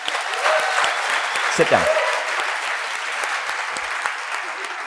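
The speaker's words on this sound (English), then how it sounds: "Give him a round of applause." An audience claps loudly and continuously as a volunteer comes up on stage, the clapping going on under a short spoken phrase.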